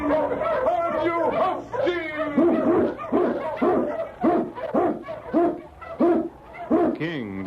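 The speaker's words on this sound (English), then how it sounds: "the swiftest, strongest of Eskimo lead dogs" An Eskimo husky lead dog barks in an old Yukon radio drama, a rhythmic run of loud, close barks and yelps, with a howling rise near the end.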